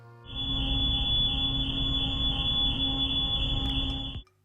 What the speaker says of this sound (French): il y a toujours un type qui oublie de débrancher son alarme de voiture